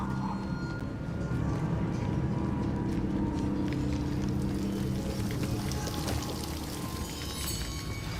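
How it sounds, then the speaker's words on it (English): Waterfall in the video game Hogwarts Legacy, a continuous broad rushing roar of falling water that stays loud and steady throughout, with no one talking. "The waterfall."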